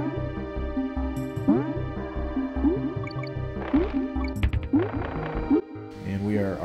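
Water-level sound effects from the Donkey Kong Country video game: bubbly, dripping chirps and liquid blips repeat in a quick rhythm over steady game music.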